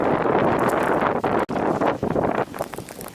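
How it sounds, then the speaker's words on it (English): Heavy wind roars during a winter storm with snow on the ground, buffeting the microphone in a loud, continuous rush that briefly dips and then keeps blowing close and strong. "Wind is blowing heavily."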